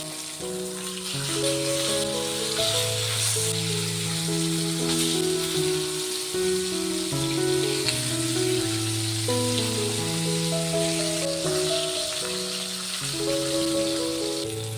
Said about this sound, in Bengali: দেখুন বন্ধুরা, মাছটা ভাজা হয়ে গেছে,